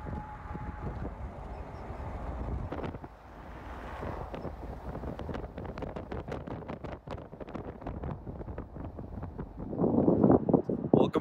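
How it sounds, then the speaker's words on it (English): Strong, gusty wind outdoors in Lubbock, far west Texas, buffeting the microphone with a loud, continuous roar and rumble that swells toward the end. "it is super windy out here, always is"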